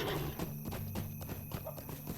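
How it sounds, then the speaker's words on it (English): Horse hooves in the Lord of the Rings Online video game, a steady rapid clip-clop of close, even footfalls with a faint musical drone underneath. "I'll get on my horse."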